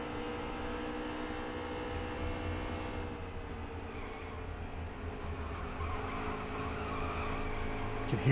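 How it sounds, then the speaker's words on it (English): Race truck tires squealing in NASCAR Heat 3 at Kentucky, a sustained high whine under the steady roar of the engine, which continues throughout without a break. "You can hear those tires squealing"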